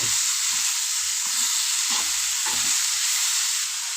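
Greens fry in hot oil in a pan with a loud, continuous sizzle, broken by a few rhythmic scrapes of a spatula stirring them.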